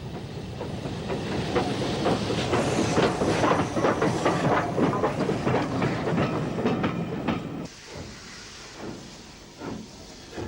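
GNR steam locomotive Boyne passing at speed near Dunmurry in 1964, a loud rapid clickety-clack of wheels with hissing steam that fades to a quieter rumble after several seconds, from archival film.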